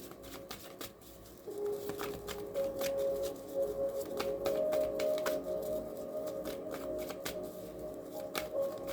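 Tarot cards being shuffled by hand, a steady run of soft papery riffles and flicks close up, with a faint tonal hum underneath and no talking.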